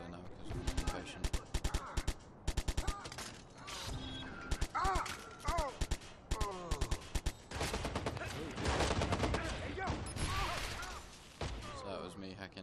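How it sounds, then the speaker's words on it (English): Rapid bursts of gunfire from an enemy shotgun in the Watch Dogs video game, loud overlapping blasts in quick clusters mixed with other game noise and a talking voice. "Why are you shooting me with a shotgun from 50 meters away?"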